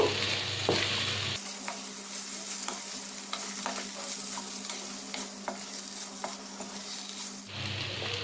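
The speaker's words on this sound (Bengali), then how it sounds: "লতিটা আমি এর মধ্যে দিয়ে দেবো। খুব ভালোভাবে মিশিয়ে নেব।" Boiled arum stolons being stirred into dry fish masala in a frying pan, a continuous crackling sizzle with repeated sharp clicks of the spatula against the pan, heard without any talk.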